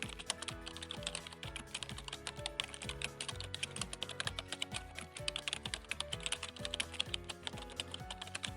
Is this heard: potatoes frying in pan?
no